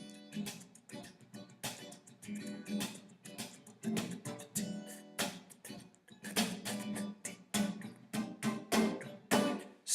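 Guitar strummed with the thumb, a run of soft, close chords with uneven rhythm, each stroke ringing briefly before the next.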